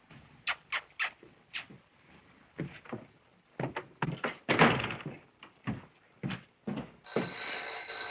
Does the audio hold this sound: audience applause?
no